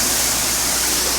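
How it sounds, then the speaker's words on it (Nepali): Water pours out in a strong, steady rushing gush, loud and close, a dense continuous wash of noise with no pauses. "यसरी पानी खनाउने हो"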